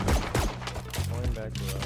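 Valorant gunfire during a competitive round, a quick burst of several sharp shots mixed with game effects and a voice speaking over it.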